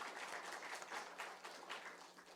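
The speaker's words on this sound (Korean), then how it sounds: "한번 큰 박수로 환영하겠습니다." Loud, sustained applause from a church congregation at a Sunday service, welcoming elderly members of a local senior center; dense, even clapping fills the whole stretch with no speech over it.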